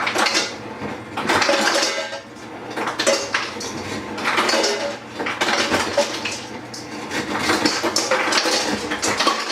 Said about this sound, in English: Grab a bowl, we're going to throw some ice in here.